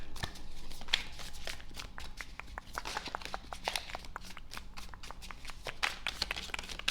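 Tarot cards shuffled by hand for a love reading, a dense run of quick riffling snaps and soft papery slides that stays close and fairly steady for the whole stretch, with no talking over it.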